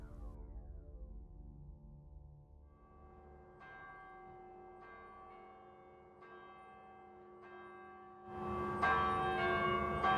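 The bell of Mariners Church in Detroit tolls in a slow, resonant sequence of strikes, each ringing out and decaying into long overlapping hum, with a louder, brighter strike near the end.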